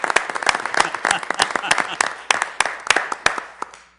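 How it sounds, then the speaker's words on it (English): Applause from a council meeting audience for a departing member, distinct sharp claps from a modest room of people, loud and close, thinning out and fading toward the end. "Councilor Vice Chair, would you starting us in a round of applause, please?"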